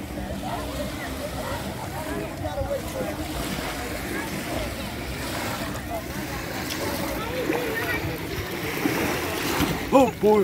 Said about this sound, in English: you hear the waves?